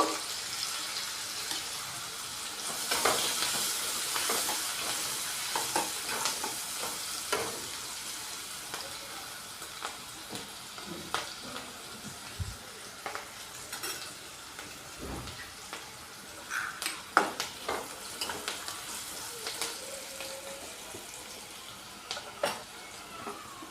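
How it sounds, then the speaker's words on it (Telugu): Small brinjal pieces coated with turmeric fry in a pan with a continuous crackling sizzle. Frequent clinks and scrapes come from stirring, all close and moderately loud, with no voices. "వేగిపోయింది ఇవి ముక్కలు వేగాయి కొంచెం వేగితే సరిపోతాయి"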